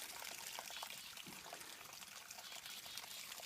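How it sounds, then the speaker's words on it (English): Water trickling and pouring from a mountain spring in the Catskills near Hunter Mountain, a steady close, faint splashing stream with no voices. "I'm gonna get some water here at the spring."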